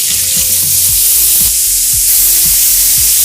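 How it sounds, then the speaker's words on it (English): Orange juice hisses and sizzles loudly in a hot pan used for ribs, a close, constant fizzing roar with a low rumble underneath. "Even the orange juice is sizzling."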